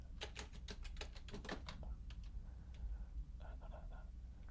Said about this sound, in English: I'm glad you do like the keyboard sounds.